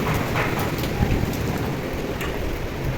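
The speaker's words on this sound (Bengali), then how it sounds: "বাইরে তো প্রচুর বৃষ্টি হইতেছে যেমন বৃষ্টি যেমন ধারা ধারা বৃষ্টি" Heavy rain pouring outside, a dense, steady roar of falling water that fills the scene evenly without pause or talk.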